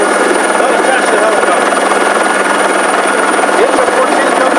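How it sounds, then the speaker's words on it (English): A helicopter in flight makes a loud, steady, unbroken rotor and engine drone that fills the whole stretch without pause. "the noise of the helicopter"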